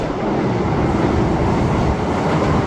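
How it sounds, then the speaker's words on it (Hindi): A MEMU passenger train runs between Gwalior and Joura, a steady loud rumble of wheels and carriage noise heard from on board, continuous and broadband with no speech. "ये देखिए हमारे पास में यहाँ पर आ गई है मेमू ट्रेन"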